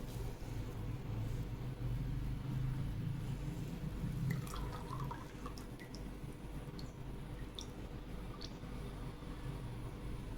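Coconut oil, castor oil and butter are poured together into a container for homemade aloe vera soap. Quiet liquid trickles and a few soft drips sound close by over low background hum.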